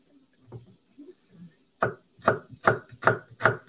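A knife finely chops onion on a board, first a few soft, scattered cuts, then five sharp, evenly spaced chops close up.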